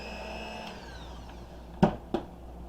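A hand-held electric mixer steadily whirs through soft peanut butter cookie dough at close range, a continuous motor hum with two brief louder knocks near the end, with no talking.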